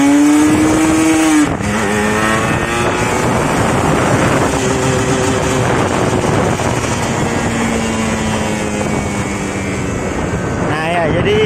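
Kawasaki Ninja 150RR two-stroke motorcycle with an engine that loses revs under throttle, on a test ride: loud, close buzzing exhaust that dips and rises unevenly, with wind noise and someone talking over it.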